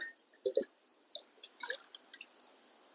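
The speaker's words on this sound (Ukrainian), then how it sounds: "Одну третю кружки на 10 літрів води. Цю суміш перемішуємо добренько." Chicken manure is stirred into water at a third of a mug per 10 litres to feed cucumbers. Quiet, scattered sloshes and drips come one after another in a nearly silent space.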